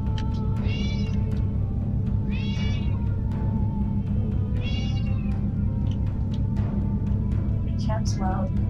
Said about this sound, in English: Cat's loud.